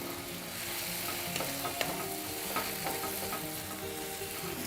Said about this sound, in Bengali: এখন আবার তেলের মধ্যে একে একটু নাড়ানাড়ি করব।